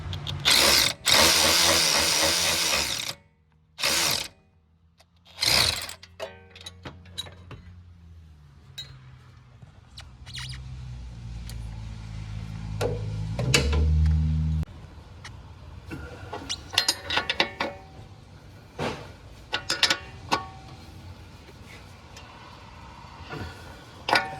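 A power impact gun runs in loud bursts, tightening a fastener, with sharp clinks and metallic clatter between the bursts and lower rumbling tool noise toward the middle.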